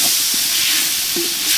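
Tomatoes dropped into a hot frying pan with onions while cooking ration biryani, giving a steady close sizzle and hiss with a few soft thuds and stirring sounds, no talking.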